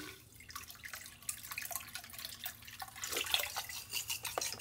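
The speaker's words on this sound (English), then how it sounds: "it should start pumping water here in a minute" Small water pump in a homemade DIY bait tank beginning to move water, a quiet trickling and dripping that grows into a steadier splashing flow over a few seconds, close and faint.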